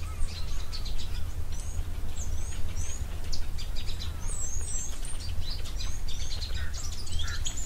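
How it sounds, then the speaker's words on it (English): Repeated high, thin bird calls from a green-backed camaroptera at a waterhole, chirping on and off over a steady low outdoor hum. "sounds like there may be a green-backed Camaroptera"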